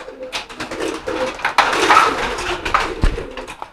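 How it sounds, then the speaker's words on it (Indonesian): Racing pigeons coo steadily in their coop while being fed, soft throaty calls overlapping close by with light rustling and fluttering, no talking. "sambil ngasih makan merpati"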